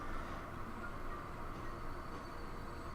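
A train runs along the line in Transport Fever 2, arriving at a Southampton station in a UK setting, as a steady, dense rolling rumble that holds constant for the whole stretch, with no talk over it.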